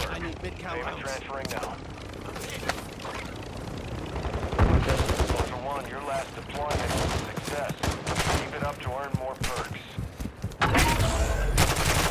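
Gunfire in the video game Call of Duty MW2 DMZ, repeated bursts and single shots crackling through a busy firefight, heard under and between players talking over voice chat.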